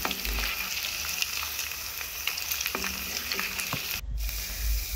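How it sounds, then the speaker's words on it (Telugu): Prawn pakoda frying in hot oil, a steady close sizzle with light scraping as the pieces are stirred, continuous throughout with a brief dip near the end. "అప్పుడే రొయ్యలన్నీ ఆయిల్లో కరెక్ట్గా ఫ్రై అవుతాయి."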